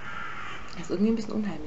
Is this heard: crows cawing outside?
yes